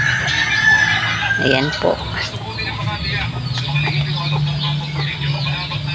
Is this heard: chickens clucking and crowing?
yes